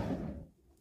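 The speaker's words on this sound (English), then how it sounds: "Drawer for your knives and forks." A kitchen drawer slides open with a short, dull wooden rumble in an Auto-Sleepers Broadway EL motorhome, fading quickly into quiet.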